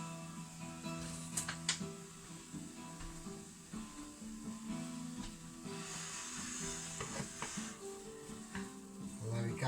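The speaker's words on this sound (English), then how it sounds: "we're just gently frying these mushrooms off." Steady, soft sizzling of mushrooms frying gently in a pan, with occasional scraping and stirring sounds throughout.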